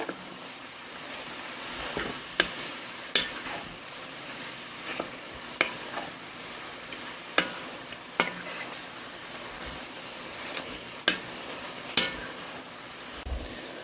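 Beef nearly browned in a stew pot sizzles with Worcestershire sauce and seasoned salt as it is stirred. A spoon knocks and scrapes against the pot at regular intervals over a steady frying hiss, with no talking.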